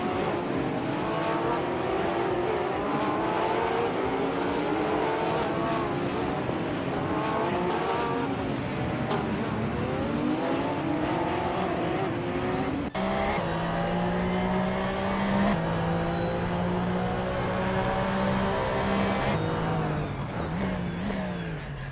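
A 2010 Porsche 911 GT3 Cup race car in a racing video game, its engine wailing continuously as the revs climb and fall through repeated gear changes, with a sharp shift near the middle and no talking.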